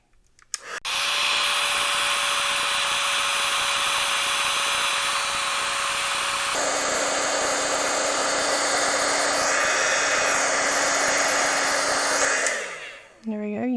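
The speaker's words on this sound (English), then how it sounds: "now I'm going to set it with my heat tool" Heat tool blowing near a stamped card to set embossing powder, a loud steady whirring hiss that starts abruptly, changes pitch midway, and cuts off near the end.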